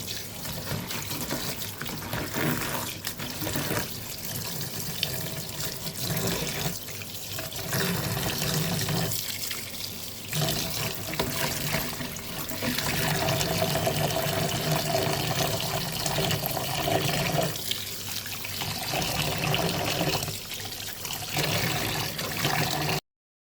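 Cut small puti fish are washed under a running kitchen tap, with a continuous stream of water splashing and sloshing nearby throughout, the flow shifting slightly as the fish are handled.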